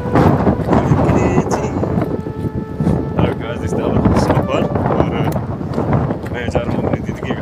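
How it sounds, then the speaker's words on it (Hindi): Strong wind gusting steadily through a snowy mountain village during snowfall, a loud roar buffeting the microphone throughout while someone talks over it. "बहुत ही हवा जोर से हवा चल रही है"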